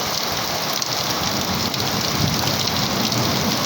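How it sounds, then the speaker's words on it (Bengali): Heavy morning rain pours down in a dense, steady hiss, loud and close, with no voices over the downpour. "আপনারা দেখতে পাচ্ছেন প্রচুর বৃষ্টি"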